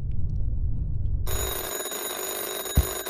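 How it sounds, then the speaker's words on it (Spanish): A telephone or bell rings in a Spanish-language horror video game, a dense steady tone with rich harmonics switching on abruptly after a quiet opening and sustaining to the end, with a brief low thump near the close. "Teléfono."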